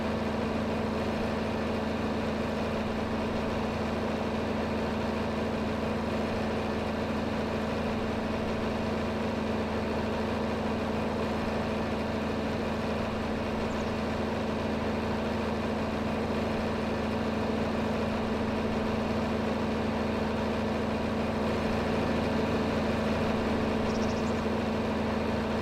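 A tractor engine idles steadily in Farming Simulator 25, a constant low droning hum with a steady pulsing rumble, close and unchanging throughout with no talking.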